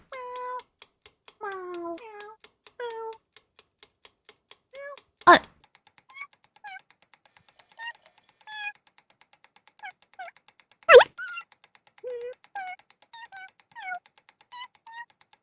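In the video game Cats Hidden in Paris, short synthetic cat meows repeat one after another over a steady ticking timer clock, broken by two sharp loud thuds.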